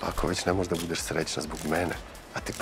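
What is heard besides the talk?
No everyday noise stands out behind the speech.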